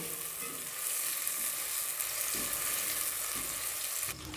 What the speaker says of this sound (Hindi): सबसे पहले इसमें प्याज शामिल करेंगे। तो प्याज को कर लेंगे ब्राउन।